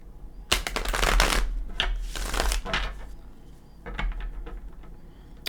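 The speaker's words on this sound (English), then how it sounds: "One more shuffle." Playing cards shuffled in several quick riffling bursts, crisp and close, with short pauses between them and no talking.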